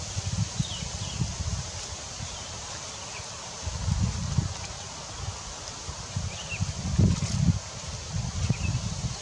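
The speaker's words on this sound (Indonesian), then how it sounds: "Ini anginnya besar banget." Strong wind gusting outdoors near a bird's nest, coming in loud rumbling bursts with rustling between them and faint bird chirps in the background.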